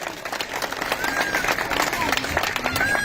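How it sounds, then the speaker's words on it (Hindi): An audience at a civic welcome ceremony for BJP leader Rajesh Kateva in Kumawas claps loudly for a guest, a dense, continuous patter of applause with someone talking over it. "राजेश जी कटेवा के बारे में एक बार जोरदार तालियों के से उनका स्वागत किया जाए।"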